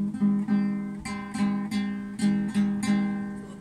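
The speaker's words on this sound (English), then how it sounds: "So that is the sound of the guitar." A guitar plays a run of plucked notes with a steady rhythm, each string attack ringing and decaying into the next, clear and close with no voices.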